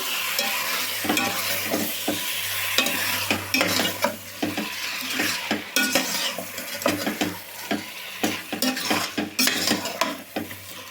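Chicken in Chettinad masala gravy is stirred in an oiled pan, with repeated close scrapes and clinks of the spoon over a continuous sizzle and a low steady hum, no voices.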